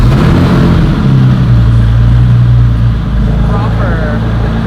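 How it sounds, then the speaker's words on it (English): RWB Archangel car engine fitted with a Fab Speed muffler bypass, a loud, steady low drone with a deep humming note held throughout, no clear talking. "So excited to drive RWB Archangel on the highway because we have the new Fab Speed muffler bypass."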